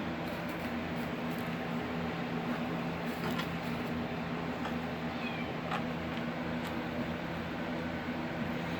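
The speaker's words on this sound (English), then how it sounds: "I hear her meowing away." A cat meows repeatedly from a distance, thin cries cutting through a steady background hum.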